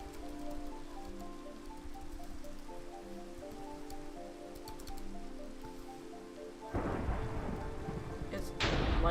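Thunder from a lightning strike in a Minecraft-style anarchy game, a rumbling crack that swells over steady game rain after a stretch of quieter ambience.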